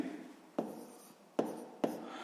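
A pen writes on paper while percentages are worked out for a sixth-grade maths exercise, three short scratchy strokes with a sharp onset each, close and quiet, with no voice over them.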